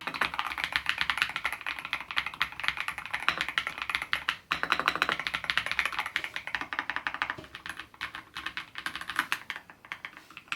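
Steady, rapid typing on a Proove Slicker SE mechanical gaming keyboard with Huano switches, a dense run of crisp, close keystrokes throughout with no talk.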